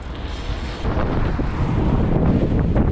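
Heavy wind buffets the microphone of a rider on a BMX bike in city streets with a loud, constant rumbling roar that swells slightly and never lets up.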